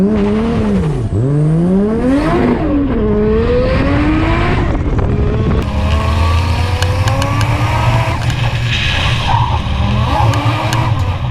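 Drift car with a 1JZ engine revving hard during a competition drift run, loud and close, with sweeping rises and falls in pitch, then a steady high-revving roar with tyre noise.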